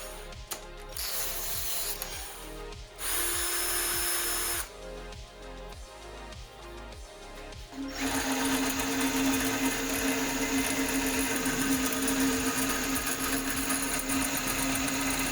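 A power drill spinning a nut whirs in short bursts, stopping and starting, then runs continuously at a higher pitch with a steady mechanical whine.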